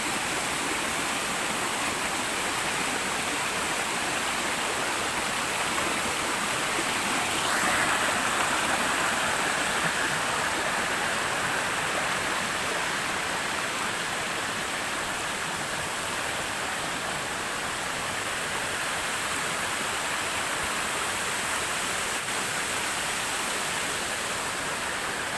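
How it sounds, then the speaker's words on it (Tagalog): A forest waterfall pours with a steady, dense rushing roar, unbroken and even for the whole stretch, with no voices over it. "Ayun yung falls."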